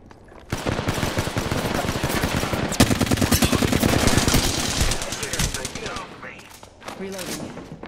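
Rapid automatic gunfire from the Apex Legends video game, a loud sustained burst of close shots lasting several seconds before tapering off.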